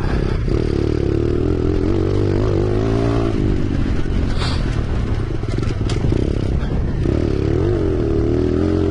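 A dirt bike engine revving hard on a motocross dirt track as the rider lifts the front wheel over whoops, loud and close with throttle surges, rattling clatter and scraping, no talking.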